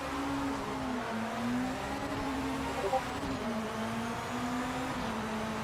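A race car engine in Project Motor Racing on a cold-tyre first lap: a steady, droning engine note with gentle pitch shifts as it holds speed, continuous and fairly close throughout.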